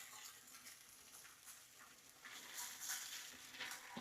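Bacon frying in a pan for brioche chilli hotdogs gives a steady, close crackling sizzle, with spitting growing a little louder toward the end and no voices.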